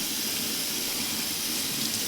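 Running water splashes steadily from a tap as a dyed item is rinsed under it until the water runs clean, a continuous close, loud gush with no voices.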